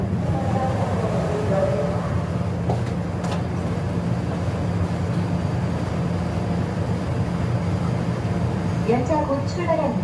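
A Sillim Line light rail metro train runs through an underground tunnel in Seoul, giving a steady, loud rolling hum and rumble throughout. An onboard announcement voice speaks over it.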